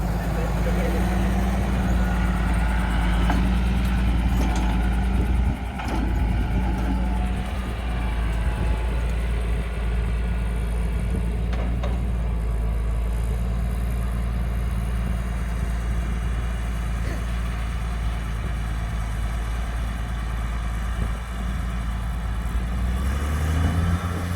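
A Zoomlion 160 HP tractor engine runs steadily on hand throttle, a constant low rumbling drone that holds even for the whole stretch.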